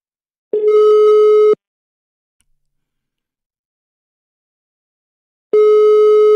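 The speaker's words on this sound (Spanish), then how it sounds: "Ahí oís el tono de llamada." A steady electronic telephone ringback tone sounds twice, each about a second long, separated by several seconds of silence.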